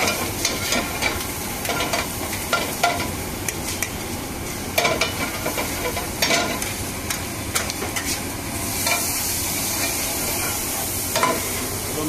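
Boneless meat for biryani sizzles and fries in a pan at a street food stall, with steady crackling hiss and repeated scraping stirs of a utensil, close and loud with no voices.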